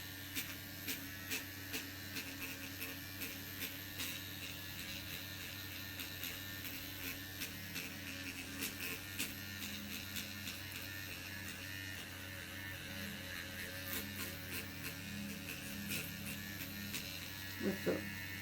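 A microchanneling device stamping along the eyebrow area in a spa treatment gives a faint, steady electric buzz with small rhythmic ticks, sitting low under a quiet room background.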